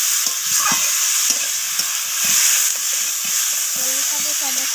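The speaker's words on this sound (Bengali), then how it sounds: "বেগুনগুলোকে আমি আবারও সব কিছুর সাথে কষিয়ে নিচ্ছি।" Eggplant sizzles loudly in a pan with fish curry spices and green chilies, a dense close-up frying hiss broken by repeated spatula scrapes and stirring knocks.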